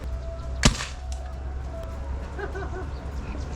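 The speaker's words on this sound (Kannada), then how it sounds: "ಚಿಕ್ಕ ಪೈಪಿಂದ ಆಚೆ ಬಂದಾಗ ಫೈರ್ ಆಗುತ್ತೆ. ಫೈರ್ ಅಂದರೆ ಇದ್ರೊಳಗಿರೋ ಗುಂಡು ಆಚೆ ಬರುತ್ತೆ" A homemade alcohol-pressure pellet gun fires once with a single sharp, loud crack near the start, followed by faint outdoor ambience and soft distant bird-like chirps.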